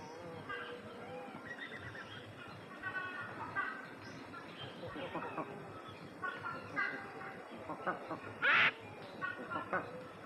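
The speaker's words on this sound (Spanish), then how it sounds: "observados seguramente por las aves de la selva, pero desde luego sintiendo sus voces" Jungle birds call in dense virgin rainforest, a mix of varied chirps, whistles and squawks overlapping continuously, with one louder, sharper call near the end.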